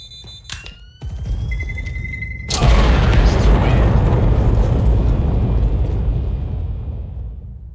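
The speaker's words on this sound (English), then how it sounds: "It is going to explode." A loud explosion booms in a video game, a heavy blast that hits after a few sharp pops and clicks and then rolls on as a long, slowly fading rumble.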